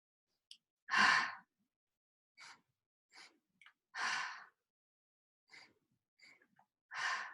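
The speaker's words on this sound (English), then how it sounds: "when we go faster, we focus on the exhale." Fast, forceful exhaling breaths during qigong practice, three strong close puffs at even intervals with softer shorter breaths between, alone in a quiet room.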